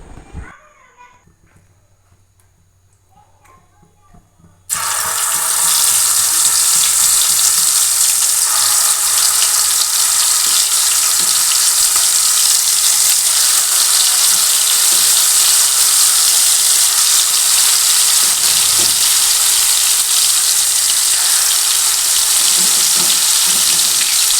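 Sesame fritters (bora) made from stone-ground sesame paste with salt and turmeric drop into hot oil, setting off a loud, steady frying sizzle that fills the rest of the clip after a few quiet seconds of faint kitchen sounds.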